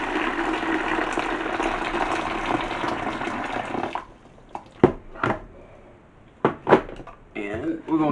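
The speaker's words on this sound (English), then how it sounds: "so we're just going to pour it in" Boiling water poured into a container for making strawberry banana wine, a steady rushing gush for about four seconds that then stops, followed by a few sharp clinks and knocks and a voice talking.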